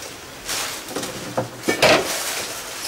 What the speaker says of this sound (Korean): 설거지 하고 있어?